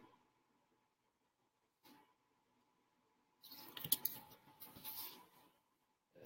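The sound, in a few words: typing on a computer keyboard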